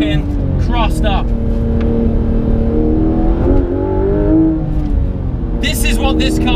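Porsche 991 GT3 RS accelerating hard on a winding Tuscan mountain road after a first-gear hairpin, loud sustained engine roar with rising revs heard from inside the car, with excited talk over it.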